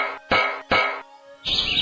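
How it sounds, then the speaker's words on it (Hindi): Birds chirping in bursts, two short dense bright chirping phrases then a longer busier twittering passage, fairly loud and close with no voices. "चिड़ियों की चहचहाट,"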